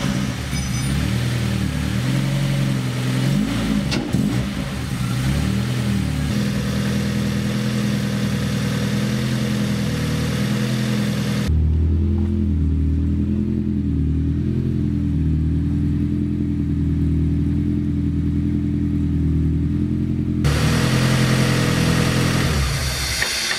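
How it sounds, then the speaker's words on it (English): A Mazda Miata engine with exposed adjustable cam gears idles loudly up close, its steady mechanical throb shifting pitch as it is revved, then settling into a lower idle before rising again. "fire the car up and make sure it runs normally"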